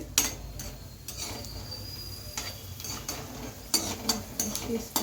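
Peanuts frying in a pan for an Andhra-style okra fry, a soft crackling sizzle marked by several sharp clinks and scrapes as they are stirred.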